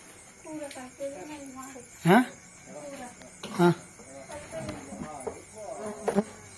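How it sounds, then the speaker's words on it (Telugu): Insects swarm and buzz at night after rain around a roadside chili snack cart during a power cut. The steady buzzing and chirping sit under nearby voices, including someone talking. "భయం అవుతుంది మొత్తం పురుగులు వస్తాయి"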